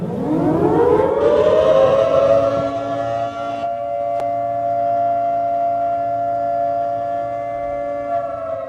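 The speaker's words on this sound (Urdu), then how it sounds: "ریلی ڈی چوک پہنچی تو سائرن بجائے گئے" Civil defense sirens sound at D-Chowk in Islamabad as a Kashmir Solidarity Day rally arrives, a loud wail that rises and then holds one sustained tone with no talk over it.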